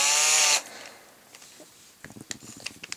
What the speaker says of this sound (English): So I take the cordless drill again,